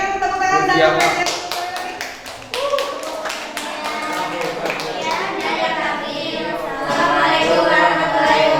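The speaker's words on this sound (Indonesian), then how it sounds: "Berikan tepuk tangan dan apresiasi." Classroom applause from a group of schoolchildren, a dense run of clapping with sharp, close hand claps and children's voices mixed in throughout.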